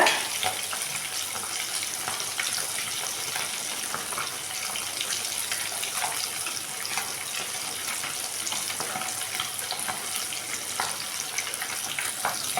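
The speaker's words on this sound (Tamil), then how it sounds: "இப்போ மீன் வந்து நம்ம சேர்த்துடலாம் பிஸ்மில்லா ஒன்று ஒன்றா போடுங்க" Fish pieces slide into a pan of fish curry and sizzle steadily, a dense, even frying hiss that runs for the whole stretch at close range with no voices.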